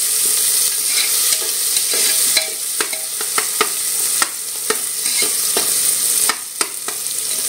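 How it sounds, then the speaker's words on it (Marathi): Tomatoes sautéing in a pan with onion for dal khichdi: a loud, continuous sizzle broken by sharp spoon scrapes and knocks against the pan at irregular intervals. "आता आपण त्याच्यामध्ये टमाटर ऍड करणार आहोत। तो पण चांगला परतून घ्यायचा आहे।"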